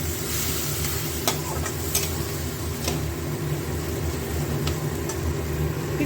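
Tomato with turmeric and Kashmiri chili sizzles steadily in a pan while a spoon stirs it, with a few sharp scraping clicks over a constant frying hiss.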